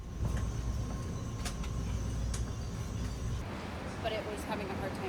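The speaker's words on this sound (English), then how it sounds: "a tired train ride and walk back to the Airbnb" Train ride in Japan: a continuous rumbling rail-car roar with clunks and rattles, easing off partway through into quieter cabin noise, with voices present.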